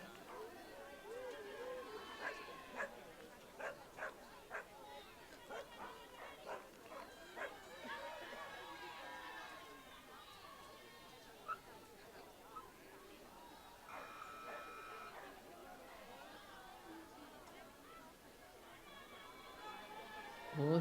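A Malinois runs a dog agility course at a world championship event, with repeated sharp barks and scampering at a distance, under a commentator's voice and crowd chatter in a large hall.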